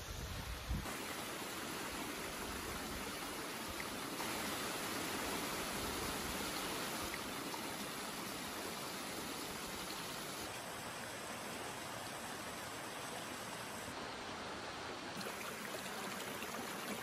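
Sol Duc Falls waterfall pours with a steady, broadband rushing roar, constant and unbroken throughout, heard at moderate level with no voices.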